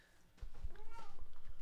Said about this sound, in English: Yeah, my cat's screaming.